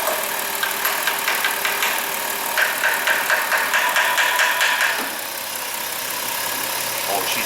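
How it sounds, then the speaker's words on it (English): A Dodge Caravan engine idles with an EGR fault, a steady mechanical hum with a faint rhythmic ticking and rattle that loosens and drops in level partway through as it stumbles. "so the engine's stumbling a little"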